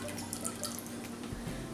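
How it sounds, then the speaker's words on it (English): A sodium lactate, lye and water solution is poured into soap batter with buttermilk powder and kaolin clay, a soft continuous liquid trickle with faint drips under low background hum. "I'm just going to pour in my sodium lactate, lye, and water solution"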